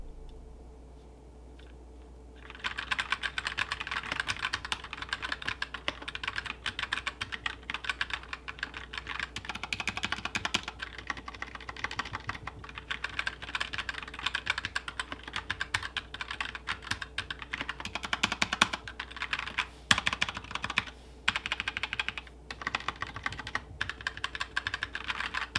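Continuous typing on a Keychron K4 keyboard with OEM switches, a dense, even stream of close, medium-loud key clicks after a short quiet lead-in, with no talking.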